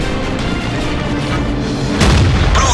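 A heavy boom as a tank shell penetrates an enemy tank in World of Tanks, where the player drives a KV-1, rising out of a constant low rumble of engine and battle noise, followed by a short burst of sound.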